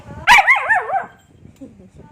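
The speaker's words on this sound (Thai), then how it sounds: "จะเห่าทำไม" A dog lets out one loud, close, warbling bark-howl that wavers in pitch and then fades, followed by quieter low sounds.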